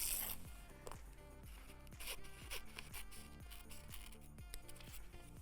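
A run of quick rhythmic snips, like scissors cutting paper, repeats close up and moderately loud with no speech.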